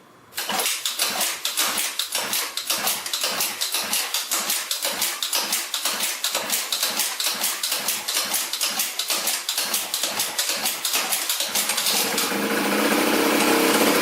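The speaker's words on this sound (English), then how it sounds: "It's alive! Alright. Well, that's good. It runs." A Yamaha Jog scooter is kick-started with a long run of rapid, rhythmic kicks and sputters. The engine then catches and settles into a steady, buzzing idle near the end, loud and close, with no voices.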